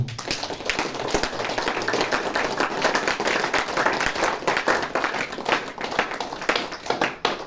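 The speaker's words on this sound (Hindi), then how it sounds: "मुस्कुराओ और तालियां बजाओ।" An audience at a Navratri camp motivational talk claps together, a dense run of fairly close handclaps lasting throughout.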